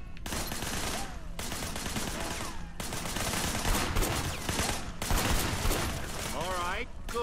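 Video game gunshots in Sleeping Dogs, bursts of rapid fire in several volleys over busy game noise, with a voice talking in between.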